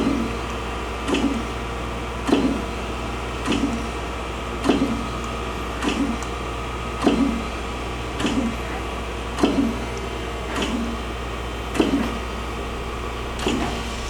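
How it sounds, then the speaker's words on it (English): A Chevalier 12 by 24 inch precision surface grinder in its spark-out cycle, a regular ticking click repeating about every second and a quarter over a steady low hydraulic hum, the saddle traversing back and forth. "That means it should go completely back and forth with the saddle, and then the machine will park."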